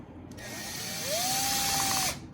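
A small power driver runs a bumper screw into an RC truck chassis (TRX4), one close whine rising in pitch and holding for about a second before stopping.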